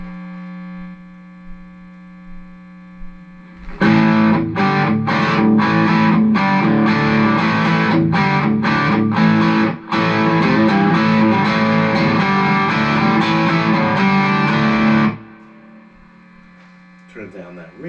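A Squier Classic Vibe 60s Stratocaster electric guitar plays through a distorted amp, loud sustained chords with sharp rhythmic strums and brief stops, framed by amp hum before and after.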